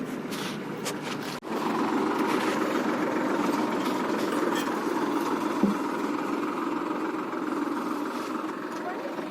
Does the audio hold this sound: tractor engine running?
yes